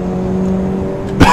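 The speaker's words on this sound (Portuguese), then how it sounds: "eu ainda não tô nem acelerando todo o carro pra não ferir o motor" A race car engine in Assetto Corsa, not yet pushed to full throttle, drones steadily at a constant pitch, then a sudden brief surge near the end as the revs climb.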